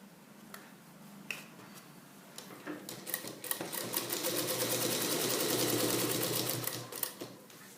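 Sewing machine stitching elastic onto the waistband of a salwar pant, a rapid mechanical chatter that starts in short bursts and builds into a steady, close run of stitching with no voices.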